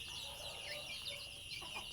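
Chickens and chicks cluck and peep faintly in the background of a quiet farm yard, soft irregular calls over a low hiss.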